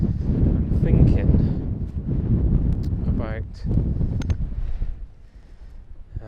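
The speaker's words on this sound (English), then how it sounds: "it's a bit windy here" Strong wind in the Brecon Beacons buffets the microphone with a steady low rumble while a person talks over it.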